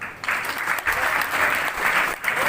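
An audience at a motivational business seminar in Kota bursts into loud applause for the achievers, dense clapping rising after a brief quiet start and swelling in waves, with a dip near the end.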